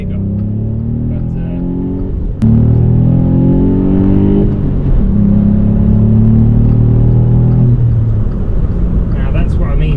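Inside a Volkswagen Up GTI with a turbo engine, loud engine drone climbs in pitch through repeated acceleration pulls, with a sharp shift break early on and steady revving heard close throughout.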